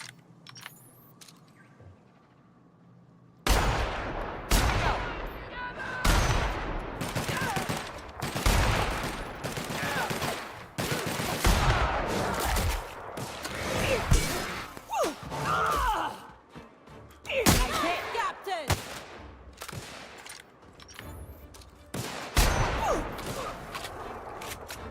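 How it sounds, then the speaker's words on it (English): Repeated gunfire in the sci-fi role-playing game The Outer Worlds: loud, close shots in irregular volleys and bursts, over about twenty seconds of combat with heavy gasps and effort sounds in between. "This will probably require a good bit more shooting"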